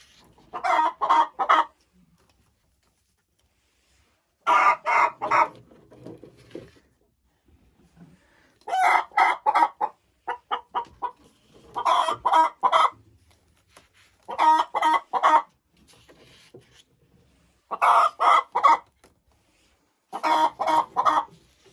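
Old laying hens cluck inside a henhouse in repeated short, sharp bursts with silent pauses between, fairly loud and nearby, no speech present.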